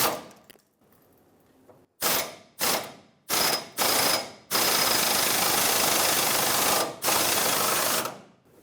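A ratchet with a 21mm socket snugs a new leaf spring shackle bolt on a 2003-2009 Dodge Ram 2500: several loud, close bursts of rapid clicking, then one long sustained run of ratcheting and a final burst, with no talking.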